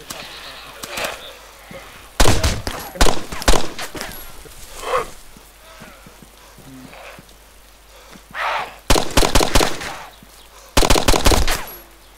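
Bursts of video game gunfire in a survival shooter, with rapid automatic volleys near the start, middle and end, loud and close, separated by quieter stretches where players talk.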